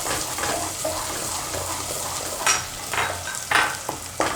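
Turmeric fries in hot oil for a Gujarati green pigeon pea and potato curry: a steady soft sizzle with scraping stir strokes and a few sharper clinks toward the end, no voices.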